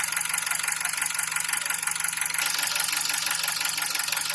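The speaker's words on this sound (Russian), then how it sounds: "стрекот идет из-за газовых форсунок" A Nissan QG18DE engine idling, with its gas injectors chattering in a fast, even, metallic tick over a low steady hum, close and continuous.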